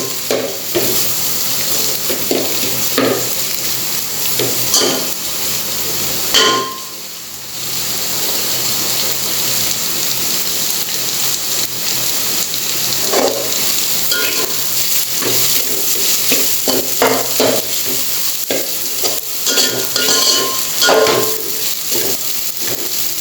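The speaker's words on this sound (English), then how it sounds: "Now let's add the ginger, garlic and chili. Saute it for a minute." Ginger, garlic and chili sautéing in a pan over cooked onion and tomato for Goan crab bafat, a loud, close, continuous sizzle with repeated stirring clatters and one brief dip where the frying hush drops away.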